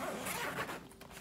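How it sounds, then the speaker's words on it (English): Zipper on a gray Adventure Ridge bag pulled in a quick rasping stroke, close and crisp, a single brief run of scratchy teeth sound with no talk. "It's got a bunch of zippers on here also. And all of them work."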